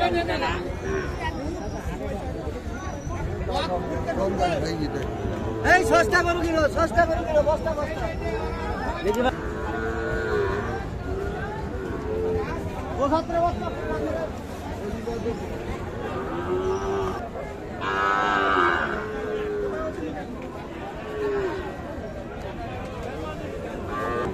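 Sahiwal bulls low and moo at the busy Ambari cattle market, with deep drawn-out calls rising over a constant crowd hubbub. Someone talks close by throughout.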